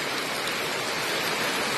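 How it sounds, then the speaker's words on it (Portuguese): Steady rain falls on a Monday morning in Parelhas, Rio Grande do Norte, Brazil, a continuous, even broadband hiss of drops with no break and no voices. "Chuva caindo agora nessa manhã de segunda-feira"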